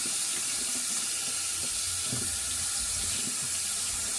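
Steady running water from a tap rinsing out wet-shaving gear, a continuous even splashing hiss at moderate level with no talk.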